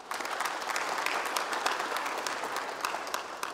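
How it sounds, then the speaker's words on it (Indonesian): Lively applause from an audience at an Indonesian Pancasila awards ceremony, a dense steady clatter of clapping that carries on without talking. "Tepuk tangan untuk bangsa Indonesia."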